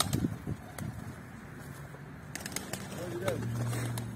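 Pigeons taking flight from a flooded coop, a few quick wing flutters and soft coos heard close by, with someone speaking at times.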